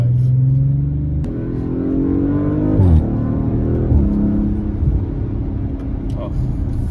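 A 2021 Audi RS5 Sportback accelerating hard, its engine note rising through the revs with a shift and a dip before it climbs again, loud and close from inside the car.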